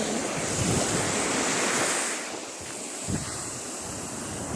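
Gentle ocean waves wash onto Hat Samae beach, a calm stretch with weak surf, heard close as a broad rushing swell that eases and returns, mixed with wind buffeting the microphone and no talking.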